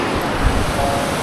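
A sea wave washes onto the shore at Ganpatipule, a brief wash of surf layered with wind noise on the microphone.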